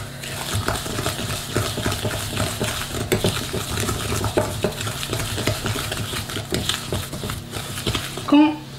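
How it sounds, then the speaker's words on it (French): A wooden spoon stirs sugar into butter in a bowl for cookie dough, making soft continuous scraping and dull knocks in an uneven rhythm, with a louder clunk at the end. "On mélange, le plus facile c'est avec une cuillère en bois."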